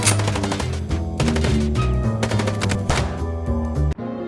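Rapid bursts of gunfire from a car in Chicken Police, loud dense cracks layered over a rhythmic music bed, ending in an abrupt cut.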